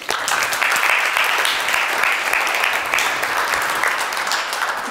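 An audience at the LOBA 2020 award ceremony breaks into dense, sustained applause, a loud, even wash of clapping that holds steady for the whole stretch.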